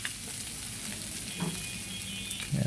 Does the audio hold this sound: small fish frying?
yes